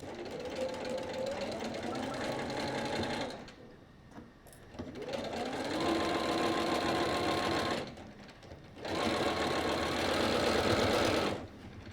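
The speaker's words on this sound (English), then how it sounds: "And then I just start stitching." A sewing machine stitches a quilt border with zigzag points, running loud and steady in long close bursts with two short pauses between runs.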